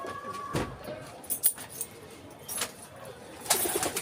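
Pigeons in a loft give soft, intermittent coos, faint and somewhat distant, with scattered rustling, light clatter and low background noise between calls.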